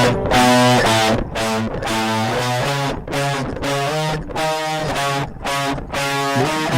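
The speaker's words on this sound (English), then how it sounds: "it's got this weird distortion drive on" A banjo played through a distortion drive effect rings out in a series of loud, fuzzy, sustained plucked chords, each separated by brief gaps, close and continuous with no talking.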